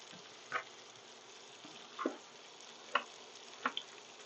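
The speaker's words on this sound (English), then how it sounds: "So we're just going to put these in, let them saute in that fat from the bacon." Apples sautéing in hot bacon fat in a skillet: a faint, quiet sizzle under a soft hiss, with a few brief crackles and pops spaced a second or so apart.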